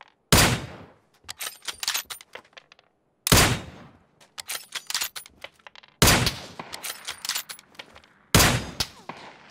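Four loud sniper rifle shots crack in PUBG's swampland map, evenly spaced a few seconds apart, each followed by a trail of echoing tail and scattered distant pops.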